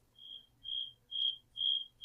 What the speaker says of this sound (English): The awkward silence you hear here will be inserted with crickets